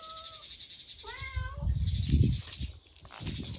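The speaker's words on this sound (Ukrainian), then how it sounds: "Де ти м'явкаєш? Чого ти кричиш?" A cat meows several times, rising and falling whines up close, then rustling and handling noises follow with no clear speech.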